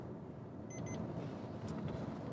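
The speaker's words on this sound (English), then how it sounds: "maybe heard the beeping sound" Two short, high electronic beeps sound in quick succession over a steady engine and road hum inside a moving 2016 Suzuki Vitara AWD, braking near a speed camera.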